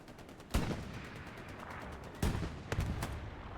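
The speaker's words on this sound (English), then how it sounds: "There's the third rocket." Rocket fire and explosions in a tank video game battle, a sharp blast early on, then two more bursts close together near the end over a constant rumbling game backdrop.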